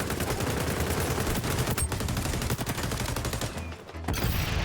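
Rapid bursts of gunfire from the video game XDefiant, firing in quick continuous volleys with a short pause near the end before shooting resumes.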